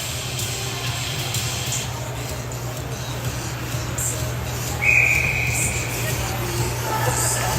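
At a U18 ice hockey game in an arena, a referee's whistle stops play with one sharp blast about midway, heard over steady crowd and rink noise.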